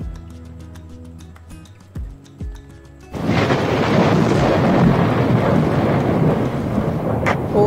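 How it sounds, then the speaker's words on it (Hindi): Rain and thunder in the video game Indian Bike Driving 3D: a few deep thunder rumbles over quiet music-like tones, then a sudden heavy, steady downpour roars loudly to the end. "और बारिश हो रही है"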